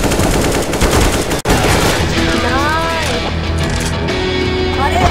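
Rapid bursts of gunfire in Counter-Strike: Global Offensive rattle loudly and densely through the opening seconds, while game sounds and voices continue underneath.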